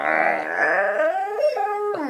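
A Great Dane puppy howls and whines at night in a long, wavering, rising and falling cry that climbs in pitch toward the end. It sounds close and moderately loud, with no speech over it.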